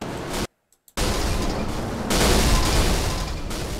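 Several cars collide in a multi-car pileup during an iRacing race at Martinsville, a loud dense crunch of impacts and roaring engines broken by a brief silent gap, then resuming even louder.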